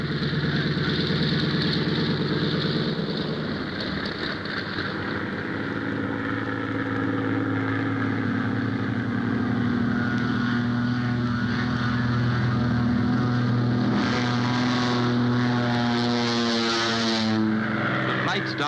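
A 1945 supply-drop aircraft's engine throttles up at the control tower's signal, a loud, continuous propeller drone rising in pitch and intensity as the plane gathers speed, with a narrator talking over it.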